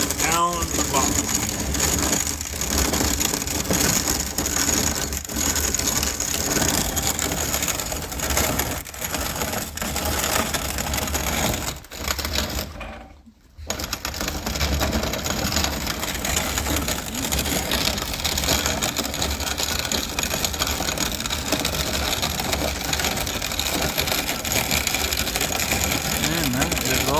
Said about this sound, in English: Cranking clockwise. Flows out down the bottom.